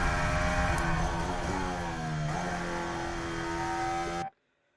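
Formula 1 cars run behind the safety car at the 2021 Abu Dhabi race, engines droning loud and steady with the pitch sliding up and down as they go by. The sound cuts off abruptly near the end.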